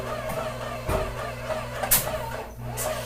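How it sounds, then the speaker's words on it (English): A large spray-lining mixing machine hums and drones steadily with layered tonal whine while a truck bed is sprayed, punctuated by a few clanks and a brief hiss. "The noise you hear in the background is the big machine that I've showed you before."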